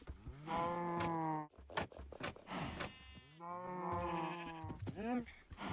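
Sheep bleat repeatedly in a Minecraft barn, several drawn-out wavering calls close up, with short pauses between them.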